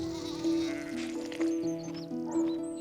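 A Herdwick lamb on a fell farm bleats several times in steady, wavering calls, loud and close against a quiet outdoor background.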